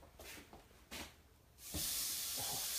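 Northern pike cakes sizzling on a grill set to 400 degrees, a few soft hissing bursts followed by a loud, steady sizzle as the food lands, close up with no talk.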